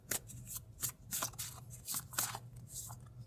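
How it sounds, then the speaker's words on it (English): Tarot cards are shuffled by hand in quick bursts of riffling and sliding, close and fairly soft, with repeated card flicks and no speech. "I'm going to pull a few cards for you."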